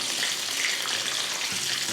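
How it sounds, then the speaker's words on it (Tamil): Eggs and potatoes fry in a pan for an egg curry, giving a steady, close, fairly loud sizzle with a faint stir near the end. "முட்டை வந்து ஒரு நிமிஷம் நீங்கள் வறுத்துக்கிட்டிங்கன்னா போதும்."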